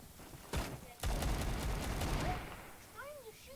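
Bursts of gunfire in a shooter video game with grenades: a sharp shot, then a dense rapid volley of shots lasting over a second, trailing off into quieter game effects.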